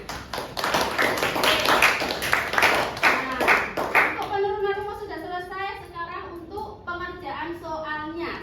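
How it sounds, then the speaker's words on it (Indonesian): Classroom students clap for a student group for about four seconds, a dense burst of hand claps that then gives way to a teacher's voice continuing alone. "Kita beri tepuk tangan"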